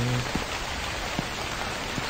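Rain falls outside a convenience store in a video game, a steady, even hiss of drops with a few faint soft thumps scattered through it, no voices.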